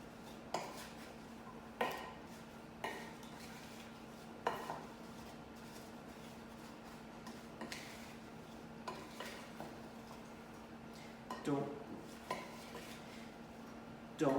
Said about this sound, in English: all the flour mixture into this large big bowl of apple things. And mix these all together